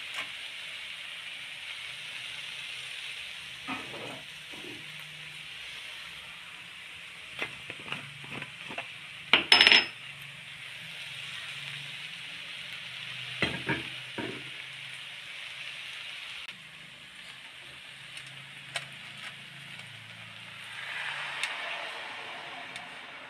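Taro leaf curry with cowpeas and peanuts simmering and bubbling in a pot, a soft steady sizzle broken by a few ladle knocks and stirring clatter, close up with no talk.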